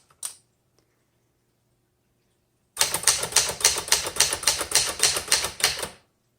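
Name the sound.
typing on a 1971 Remington Ten Forty typewriter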